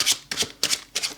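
Tarot cards are shuffled in four quick, crisp riffling bursts, close and fairly loud, with no talking over them.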